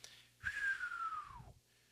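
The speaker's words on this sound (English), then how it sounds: "that was the worst whistle in the history of whistles" A single wavering, breathy human whistle sliding slowly downward in pitch, about a second long, close and poorly formed, with a soft breath before it.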